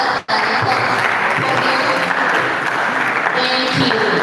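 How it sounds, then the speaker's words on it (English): An audience at a food week event applauds a colleague as he comes up, sustained loud clapping after a brief sharp thump at the start, continuing evenly throughout. "Please let's give him a round of applause as he comes"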